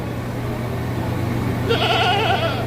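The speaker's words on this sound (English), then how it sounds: "Hey, how you doing there, goat? What do you say there, goat?" A goat bleats once at Lincoln Park Zoo in Chicago, a short, fairly loud wavering cry arriving after a stretch of steady outdoor background noise, with no talking over it.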